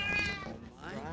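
A champion champagne mink Tonkinese cat gives a short, clear meow, close and alone, over a faint low background hum.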